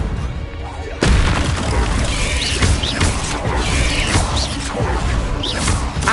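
A fire-blasting Confringo spell in the Hogwarts Legacy video game erupts with a loud boom and crackling burst, followed by sustained rumbling impacts and whooshes as a voice calls out over the fight.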